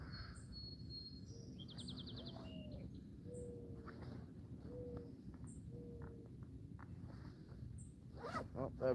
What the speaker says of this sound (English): Oh, that bird's moving.